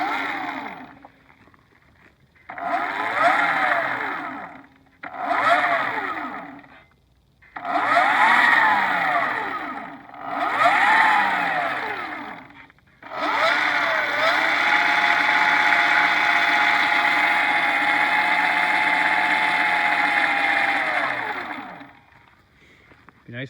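An Electric Motion EM 5.7 electric motorcycle motor whines up and down in short throttle bursts, each pitch rising and falling, then holds a steady high-pitched run for several seconds before spinning down, close and clear.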